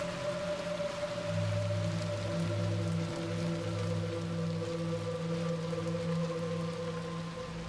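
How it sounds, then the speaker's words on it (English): Steady rain falls in the video game Little Nightmares 2, a dense, even hiss of drops striking the ground. A low game ambience with sustained tonal drones plays beneath it, and nobody speaks. "I would not recommend walking across this while it's raining"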